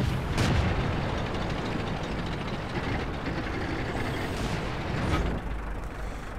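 Tank cannon fire from an ARL 44 in World of Tanks, a few heavy booms amid continuous mechanical clanking and engine rumble, with no talk.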